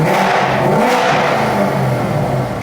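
A Chevrolet Camaro ZL1 in stock form before a heads and cam build revs up close and loud, its engine roaring steadily with a rough, throaty drone and a brief drop at the very end, alone without talk.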